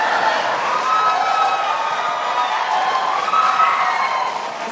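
A presidential debate audience applauding and cheering, a dense sustained roar of clapping and crowd noise at steady, loud level throughout.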